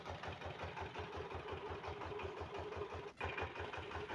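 A homemade walk-behind tractor powered by a motorcycle engine runs steadily nearby, a rapid, even low putter that holds throughout with one brief dip near the end.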